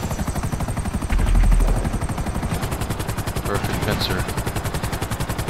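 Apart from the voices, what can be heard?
gunfire in the video game GTA 5 Online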